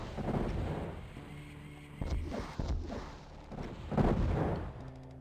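Rocket launcher shots boom in Doom's Eviternity II, several heavy blasts spread across the moment over a low ambient rumble, moderately loud with no voices.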